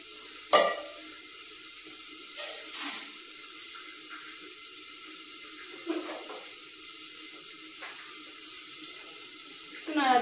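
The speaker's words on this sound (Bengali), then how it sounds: "নাড়া দিয়ে দেবো ভাতটাতে।" Rice stirred in a pot of water on a home stove, several short scraping, sloshing strokes spread out over a quiet, faintly hissing kitchen background.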